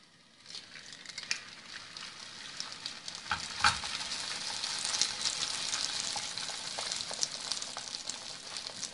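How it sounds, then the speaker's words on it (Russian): A tortilla is laid into a heated, lightly oiled frying pan, and a continuous bright sizzle and crackle rise after a quiet start and hold steady, with occasional scraping and pressing sounds. "разогрели нашу сковороду, налили немного масла"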